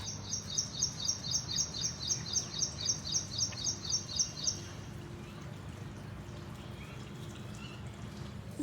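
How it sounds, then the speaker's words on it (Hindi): Small birds chirp outdoors on a morning after rain, a quick run of bright, evenly spaced tweets close by for about five seconds, then fading to a quiet background hiss with water running faintly beneath. "बारिश पड़ती है ना तो चिड़िया विड़िया सब आ जाती है ना"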